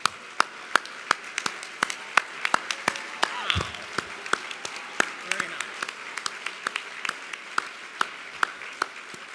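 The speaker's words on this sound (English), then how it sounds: "please stand right now so we can applaud you" An audience applauds 2014 philanthropy honorees at a National Philanthropy Day show, sparse, sharp individual claps spread steadily through the room, with faint murmuring underneath.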